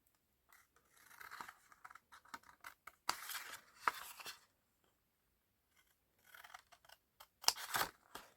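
Scissors snip through Graphic 45 patterned paper up to a score line while a Christmas tree treat decoration is made. Several quiet bursts of crisp cutting are separated by short pauses.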